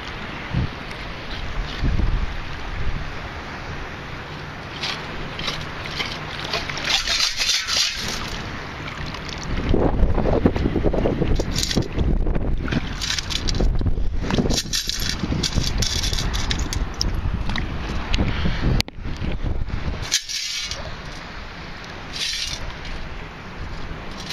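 Strong wind buffets a microphone outdoors while metal detecting near old coins, a loud, continuous low roar with gusts swelling and fading across the whole stretch, no one speaking.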